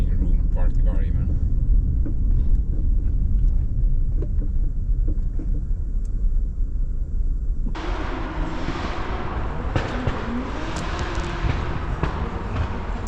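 A Dino lift runs its engine with a harsh, rumbling drone that swells louder and grittier partway through, giving off smoke, while people talk over it.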